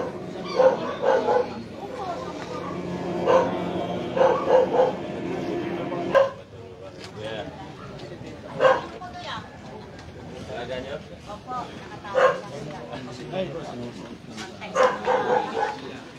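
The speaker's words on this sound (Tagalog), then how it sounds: "Aso." A dog barks and yips several times in a narrow alley during a mayor's walk-through of Barangay Pinagbuhatan, the sharp barks repeating irregularly near the microphone beneath ongoing street noise and talk.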